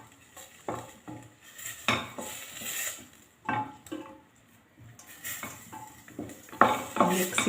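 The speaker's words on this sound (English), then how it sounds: "Mix it until the spices are fully coated the meat." Spices being stirred into boiled meat in a pot for Kenyan pilau, with repeated scraping and clinking of a utensil against the pot in irregular bursts, close and fairly loud, with no talking.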